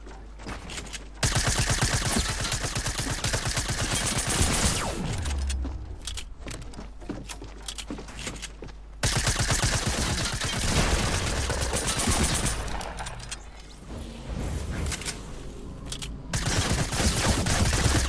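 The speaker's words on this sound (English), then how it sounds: "Third party shots coming in." Fortnite Battle Royale gunfire on PS4: dense, rapid bursts of automatic shots in long sustained volleys with brief pauses, loud and close, layered with game sound effects.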